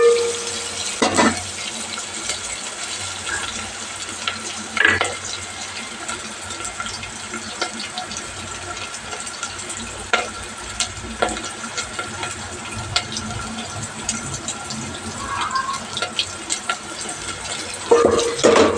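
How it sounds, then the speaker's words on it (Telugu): Food frying in a pan is stirred now and then, giving a steady close sizzle with occasional sharper scrapes and clinks of the spoon at irregular intervals, and no one speaks. "మళ్ళీ ఒకసారి కలుపుకుందాం మాడిపోకుండా"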